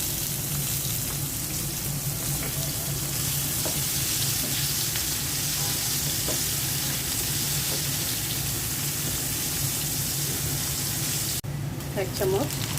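Whole cumin seeds and onions frying in hot oil in a pan, a steady broadband sizzle that runs close and loud throughout, with a brief clatter near the end.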